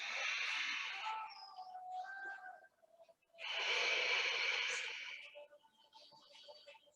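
Breaths drawn during a yoga twist come as two long, airy breathy passes separated by a brief pause, close and soft, with faint whistling tones in between.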